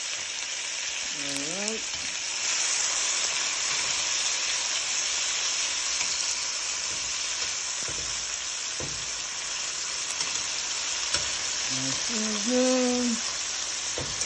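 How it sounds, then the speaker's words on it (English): Pork sautéing in a pan for brown stew pork makes a constant loud sizzling hiss with occasional stirring, while someone speaks briefly twice over it. "Let that cook for a little bit. Saute for a little bit."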